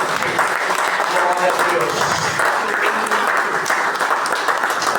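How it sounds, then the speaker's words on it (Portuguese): A church congregation claps steadily and loudly throughout, with a voice speaking over the applause. "Aplauda o Senhor nesse momento."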